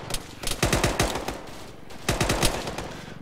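Machine gun fire in a military combat video game, two loud rapid bursts of automatic shots in quick succession, close and dominant.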